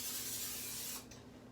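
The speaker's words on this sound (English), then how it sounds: "I'm using my Pam spray" A short, close hiss of a Pam cooking oil spray can spraying for about a second, then it stops.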